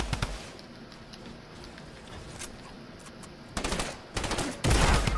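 Fortnite Battle Royale gunfire: scattered quieter shots at first, then dense rapid bursts of loud reports toward the end, crackling and close, with no voices.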